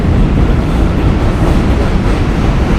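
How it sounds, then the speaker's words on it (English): NYC subway Z and J trains rumble across the Williamsburg Bridge on a foggy morning, a loud, continuous roar of wheels and cars passing close by. "The Z train coming by. And a J train coming in."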